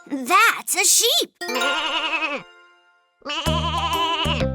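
A cartoon sheep in a children's learning show bleats in wavering, voiced calls. A child-like voice first imitates the bleat, and then a musical toy-like tune and a louder bleat follow.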